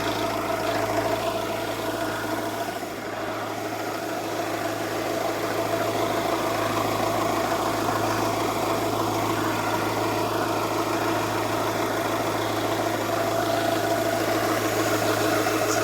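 A car engine idles after an oil leak repair, holding a steady low hum and rumble with a faint constant whine throughout, close by and without speech.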